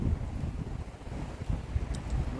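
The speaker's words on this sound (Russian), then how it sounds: "Ну и ветер, конечно, приятно." Gusty wind on Lake Seliger buffets the microphone with a low, rough roar that rises and falls under dark storm clouds, no voices present.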